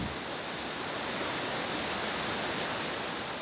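Steady rushing water of a clear valley stream near a Korean mountain hermitage, flowing continuously, a broad even wash of noise, close and unchanging throughout.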